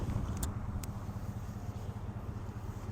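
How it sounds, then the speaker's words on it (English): Steady, low exhaust rumble from a 2020 Ford F-150 XLT SCA Performance Black Widow with the 5.0 V8, idling or cruising close by, with no talk over it. "that exhaust sounds super good"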